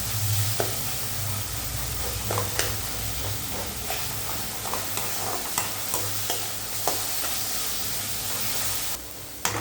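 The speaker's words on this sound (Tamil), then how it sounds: "அதுவும் நம்ம நல்லா வதக்கிக்கலாம்." Tomatoes sautéing in a pan with salt for a leftover chapati dish, a steady close sizzle and hiss with repeated scraping stirs of a spatula throughout, no talking.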